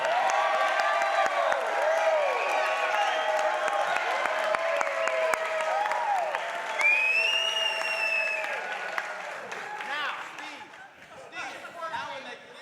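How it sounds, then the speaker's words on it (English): A convention audience breaks into a loud, sustained ovation of clapping and cheering, with whoops and crowd chatter mixed in, holding strong for about ten seconds before gradually thinning out. "When I count to 3, I would like everyone here to clap and give a huge ovation"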